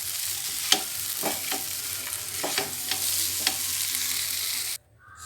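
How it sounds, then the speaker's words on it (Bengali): Chow mein being stirred in a frying pan, with a steady sizzle under repeated scraping and tossing strokes that stop abruptly near the end; no talking. "এবার ভালো করে নাড়িয়ে নেব।"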